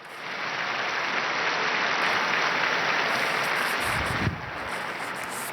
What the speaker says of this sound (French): Je vous demande d'applaudir le nouveau bienheureux.